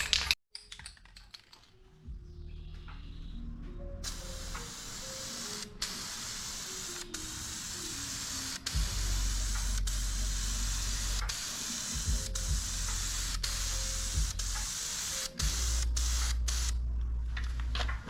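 Spray paint can hissing Chrysler blue onto a rebuilt street car engine, a steady close hiss in long bursts with brief pauses and a louder stretch toward the end.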